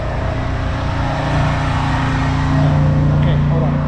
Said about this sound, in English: And all that time you got the truck running.